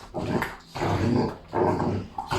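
A dog growls low and rumbling in three sustained bursts with brief pauses between, close and fairly loud.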